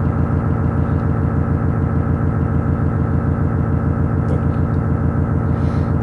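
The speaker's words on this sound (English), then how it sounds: "Echophon, basically turning the Echophon into an oscillator." Echophon modular synth module patched to act as an oscillator produces a steady, dense buzzing drone with a fast pulsing texture, loud and constant throughout with no speech.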